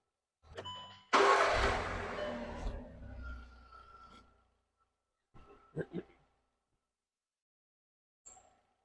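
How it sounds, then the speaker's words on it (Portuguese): A car engine starts with a loud burst of cranking and catches, runs briefly and dies away, followed by a few short clicks and dings. Recorded during a diagnostic session after a cylinder injector correction. "eu vou desligar o carro e dar partida novamente"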